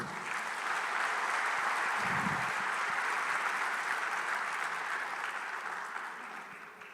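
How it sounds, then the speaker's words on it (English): An audience at an inaugural ceremony for a silver jubilee event in India applauds in a dense, sustained round of clapping that stays steady throughout and tapers slightly at the very end. "I think we have to do a big round of applause for him"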